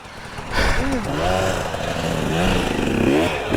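An enduro motorcycle engine revving in second gear during a race, loud and close, with speech over it.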